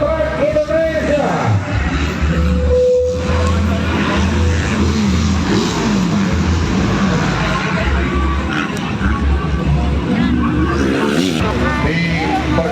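MX2 Junior B class motocross bikes in free practice on the Gelora Banjar Patroman circuit in Banjar, West Java, whining and buzzing as they pass close by. The engine noise stays loud and busy under commentary and crowd noise.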